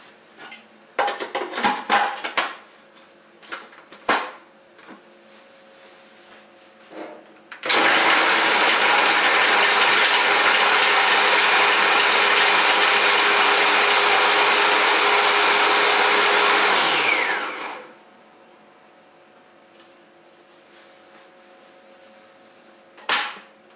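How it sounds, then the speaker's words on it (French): A food chopper minces carrot slices for samosas: a few sharp clicks and taps, then one loud continuous whirring burst of about ten seconds that stops abruptly, followed by another faint click. "nous allons hacher la carotte"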